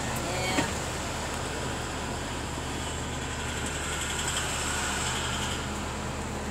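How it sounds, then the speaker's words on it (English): The engine fan of a 2016 IC CE school bus with a Cummins ISB 6.7L engine gives a loud, steady broadband roar throughout. The whoosh does not change, and no talk rises above it. "That is a loud engine fan."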